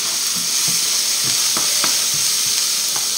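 Salted butter with olive oil sizzles loudly and steadily in a hot pan at the start of cooking, with a few faint taps of stirring over the continuous hiss.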